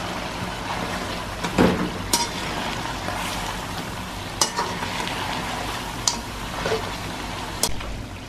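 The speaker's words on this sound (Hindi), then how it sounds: "अब प्याज डाल देंगे, इसको भी भून लेते हैं" Onions sizzle and fry in a pan for Afghani gosht, a steady hiss throughout with occasional sharp clinks and scrapes of a spoon stirring.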